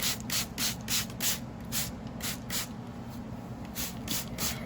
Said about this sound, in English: I use a spray bottle with just water in it to get that plaster good and wet